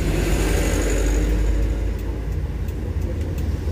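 Busy road traffic at the Wangon intersection in Banyumas, heavy with trucks and motorbikes, heard as a loud continuous engine rumble and passing vehicle roar close by, without speech.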